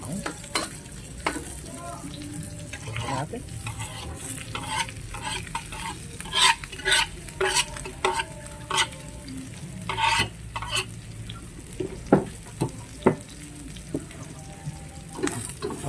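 Meat frying with onion and tomato in a pan, stirred steadily: a continuous sizzle broken by repeated scraping and clattering stirs, close and fairly loud, with a brief spoken word.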